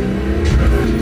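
A truck with a straight-piped exhaust and no muffler revs its engine in a steady, loud, rumbling drone with a slight rise near the middle, close and with no voices.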